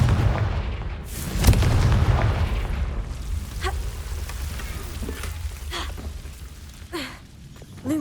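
A Confringo fire spell explodes in the Hogwarts Legacy video game, a heavy booming blast with rumbling crackle near the start, then scattered lighter impacts and whooshing effects over a continuous low rumble.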